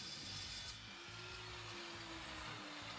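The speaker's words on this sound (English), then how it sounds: "the first thing I'm going to do is clean up the edges on my dry saw" A dry saw trimming the ends of steel frame stock for a CNC plasma cutter, a steady close grinding cut with a faint rising whine, continuous throughout.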